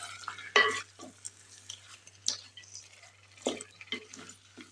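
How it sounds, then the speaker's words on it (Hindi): A spoon scrapes and clatters as mixed vegetables with peas are stirred in a pot cooked with desi ghee, scattered close taps and stirs with faint sizzling in between. "इनको अच्छे से हम लोग मिक्स कर लेंगे ये सारी चीज़ों को"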